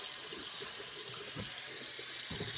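A kitchen tap runs steadily while garlic mustard leaves are washed under it, making a continuous close splashing rush with faint handling sounds mixed in.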